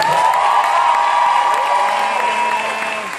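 The audience at a SXSW 2015 Q&A for the film Spy applauds and cheers as cast members come out. Loud, sustained crowd noise with whoops and shouts fades a little toward the end.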